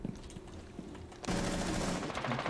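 Gunfire rips through a wall in Rainbow Six Siege, a few scattered shots followed by a loud sustained automatic burst, close and dense.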